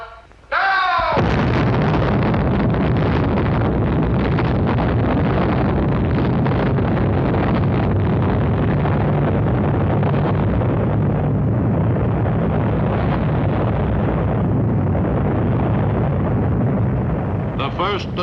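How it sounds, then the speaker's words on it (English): The first atomic bomb test explosion hits with a sudden blast and then a long, loud, continuous rumbling roar that fills the whole stretch with wind-like turbulence. "The first atomic bomb explosion was an impressive success."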